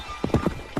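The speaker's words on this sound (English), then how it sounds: "the knight stays on his horse and keeps on riding" Hooves of a knight's horse clip-clop in a quick galloping rhythm, several close, sharp strikes over a busy background.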